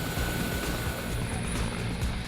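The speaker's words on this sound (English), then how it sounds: "The chopper takes off and is out of Kohima within minutes" A helicopter lifting off near Kohima, Nagaland, with a steady loud rotor and engine roar that fills the whole clip without letting up.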